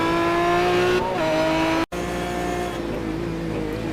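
Aston Martin GT1 race cars at Silverstone, a loud close engine holding a high steady whine, then a brief cut before the roar resumes and fades slightly as the car carries on.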